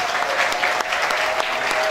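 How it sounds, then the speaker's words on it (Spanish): Dense, steady applause from an audience at an evening community event in Chicago, a continuous wash of many hands clapping with no pauses. "quiero que le demos un aplauso a esos compañeros de"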